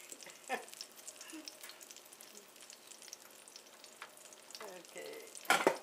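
Eggplant slices fry in a pan on a burner, a soft continuous sizzle with small crackles and spatters, and a louder clatter near the end.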